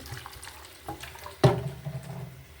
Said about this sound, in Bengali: জল আমি দিয়ে দিচ্ছি